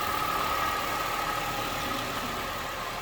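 A 2009 Honda CR-V's 2.4-liter VTEC dual overhead cam engine idles steadily at low volume, an even hum with a faint whine and no revving.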